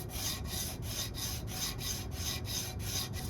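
Bone is rubbed back and forth on sandpaper fixed to a marble tile, a steady scratchy rasping in repeated strokes, close up and continuous with no talking.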